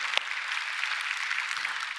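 A church congregation claps steadily for about two seconds during a Korean Sunday service, a dense, even patter of applause with no voices.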